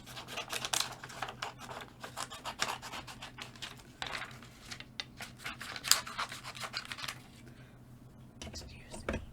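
Paper being cut down to size with scissors for a heat embossing craft project, soft close snipping and rustling strokes in an irregular rhythm, with quiet speech and handling noises mixed in.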